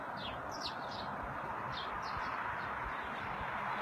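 Several birds chirp in short, high bursts over a steady outdoor hiss, faint and spread out like a flock at a distance.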